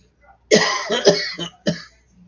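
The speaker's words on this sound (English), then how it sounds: "Got a cough." A short burst of loud, harsh coughs, three or four in quick succession, close to the listener, with no talking.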